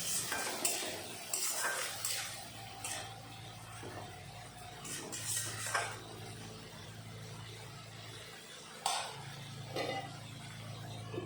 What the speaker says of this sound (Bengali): এখন আবার কষিয়ে নেব